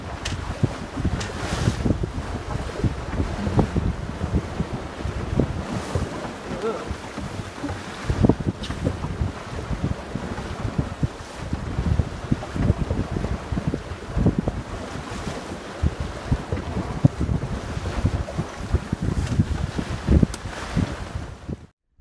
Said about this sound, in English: So this is sailing into Lusse, having crossed over from Loch Sween in almost perfect wind direction.